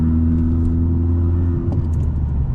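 A 2021 Honda Civic Type R hums with a steady engine note from inside the cabin, then shifts pitch abruptly in a brief rev-matched downshift.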